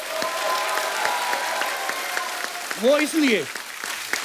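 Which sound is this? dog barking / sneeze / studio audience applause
studio audience applause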